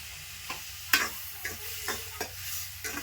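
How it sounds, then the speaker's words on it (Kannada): Tomatoes fry in a pan in a hotel kitchen: a low, steady sizzle with a handful of scraping spoon strokes at irregular intervals, close and fairly clear, with no talking. "ಈಗ ಟೊಮೆಟೊ ಹಣ್ಣು ಫ್ರೈ ಅಲ್ರಿ"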